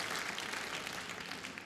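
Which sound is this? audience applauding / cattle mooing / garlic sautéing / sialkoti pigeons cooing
audience applauding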